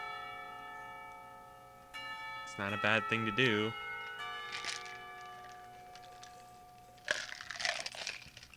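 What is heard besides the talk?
school bell ringing for lunch, from a visual novel game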